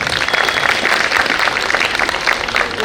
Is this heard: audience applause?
yes